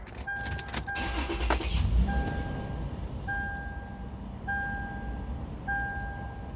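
Someone climbing into a 2003-2007 fourth-generation Toyota 4Runner: a couple of sharp door and seat clunks, then a repeating two-tone electronic chime pinging at regular intervals inside the cabin.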